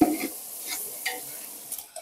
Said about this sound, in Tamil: இது நல்லா ட்ரை ஆகிற வரைக்கும் நல்லா ஃப்ரை பண்ணணும்.